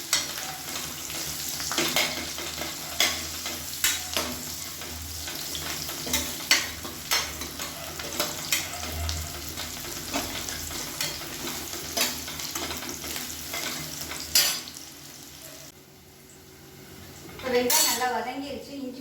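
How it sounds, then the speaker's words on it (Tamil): Onions sautéing in oil in a pan for paneer kurma, a constant sizzle with a spoon stirring and clinking against the metal at irregular intervals, close and fairly loud. "வெங்காயம் நல்லா வதங்கணும்."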